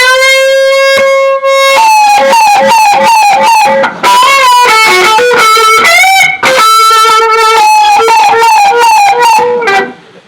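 Electric guitar played through a Catalinbread Adineko delay pedal, a blues phrase. Sustained bent notes and quick runs ring out loud and close with echoing repeats and no talking.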